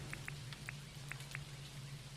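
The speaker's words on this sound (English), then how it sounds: "It's raining." Rain falls quietly, with faint scattered drops tapping on a surface at irregular intervals over a low steady hum.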